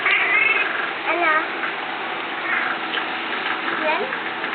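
A cat gives several short, thin meows amid a steady background hiss, with people talking over it throughout.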